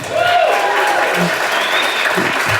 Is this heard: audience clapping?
yes